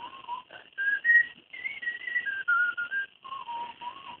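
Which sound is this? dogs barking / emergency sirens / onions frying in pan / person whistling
person whistling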